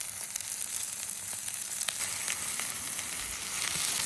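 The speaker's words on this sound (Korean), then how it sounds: "카라멜라이징 되도록 볶아주세요" Onions frying in oil in a pan at a forest campsite, a steady close sizzle with faint crackles and the odd stirring tick, heard alone without talk.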